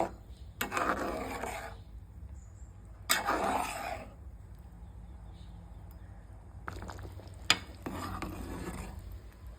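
A spoon slowly stirring a chickpea flour dumpling stew in a pot over a low flame, soft scraping strokes in a few separate bursts over a faint steady simmer.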